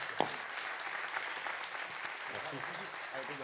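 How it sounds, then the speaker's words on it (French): Audience at an evening awards ceremony in Lot-et-Garonne gives warm, continuous applause, dense clapping filling the room throughout with some voices mixed in. "On va vous applaudir très fort."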